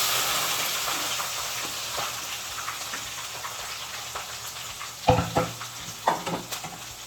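Mustard seeds frying in hot oil give a steady bright sizzle throughout, then a cluster of sharp pops and clatters near the end, with no talking.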